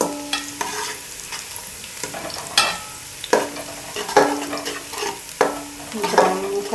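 Ingredients for beef biryani are stirred as they fry in a pan, giving repeated scraping strokes and clatters over a soft, steady sizzle, with no voices.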